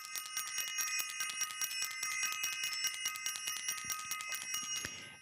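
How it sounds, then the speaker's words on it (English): A small bell is rung rapidly and repeatedly, a bright metallic ringing with steady, quick strikes that carries on for several seconds, loud and close, then fades out. "I'm going to ring the bell."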